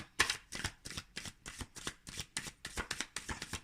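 Tarot cards are shuffled by hand in a quick, regular run of about a dozen papery riffling bursts, close and fairly loud against a quiet room.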